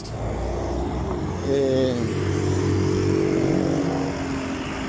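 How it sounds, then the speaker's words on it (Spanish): Cars and motorcycles pass close by on a street, a continuous engine roar swelling as a vehicle nears and accelerates, loud and steady throughout, with a brief spoken syllable at the start. "el sonido de los carros es bien atrofiante cuando pasan cerca de uno"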